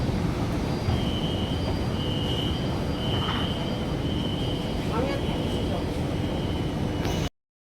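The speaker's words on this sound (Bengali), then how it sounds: "দু নম্বর প্ল্যাটফর্মে গেলে কিন্তু আমরা নোয়াপাড়ার মেট্রো পেয়ে যাব" Kolkata Metro train at a platform, a steady loud rumble and hum of the rail car with faint squeals and tones throughout, with voices talking under the noise.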